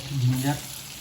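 Chopped ginger and green chili sizzle in hot butter, a short, steady close-up frying hiss that swells briefly and then settles.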